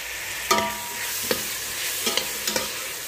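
Tomatoes are stirred into a chicken curry sizzling in a pan, giving a steady frying hiss broken by several light scraping stir strokes, close and alone.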